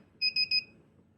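An EEPROM programmer beeps three times in quick succession while writing a BMW CAS3 module on the bench, short bright electronic tones over a low background hum.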